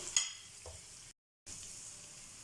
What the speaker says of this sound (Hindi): हम डालेंगे लहसुन अदरक का पेस्ट और इसकी भी 30 सेकेंड के लिए जो है वो भुनाई कर लेंगे